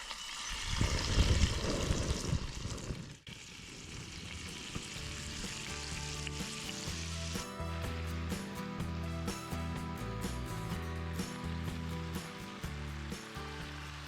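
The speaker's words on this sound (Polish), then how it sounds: "o tak dosłownie o tak żeby skwierczało rzucamy te nasze żołądeczki po trochu po trochu" Chicken gizzards hit a hot frying pan outdoors and sizzle steadily, a loud burst of crackling at first that settles into a continuous fizzing hiss.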